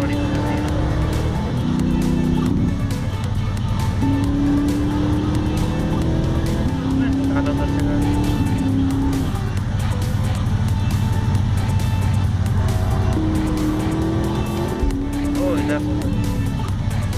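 Race cars in a GTA Vice City street race drone continuously with engines rising and shifting in pitch through gear changes, loud and steady, while someone talks over them.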